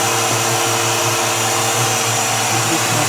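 Older Miller 105 hot air fabric welder sealer running, giving a loud, steady, continuous blower roar like a hair dryer with a low hum underneath, close and unchanging, with no speech.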